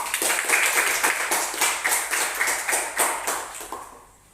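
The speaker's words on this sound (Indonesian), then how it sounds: "Oke, berikan aplaus." A class of students applauding, a short burst of bright, fairly close claps with a rough rhythmic pulse that fades out after about four seconds.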